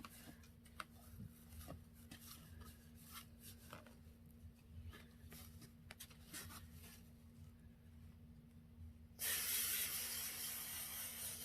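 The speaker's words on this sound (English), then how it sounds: "And I am spraying it at an angle." Hair product spray misted onto a wig at an upward angle, a steady close hiss starting near the end after a quiet stretch of faint rustling.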